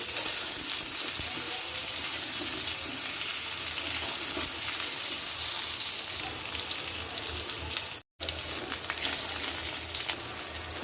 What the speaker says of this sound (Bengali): পটলগুলো লো আছে সময় নিয়ে চার পাঁচ মিনিট ভাজি করে নেব